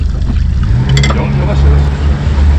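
An outboard motor on a small fishing boat out at sea, chasing albacore tuna, catches and settles into a low, steady rumble, with a few short clicks and knocks near the start and water and wind noise behind it.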